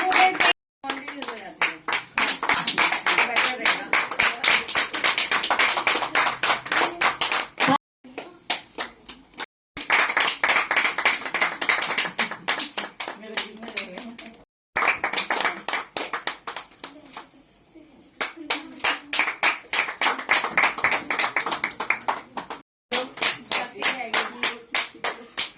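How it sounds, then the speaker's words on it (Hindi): Rhythmic clapping fills a women's award ceremony in Chandigarh, many hands beating in fast unison bursts that stop and restart several times across the stretch, loud and close. "प्लीज जोरदार तालियां एक बार"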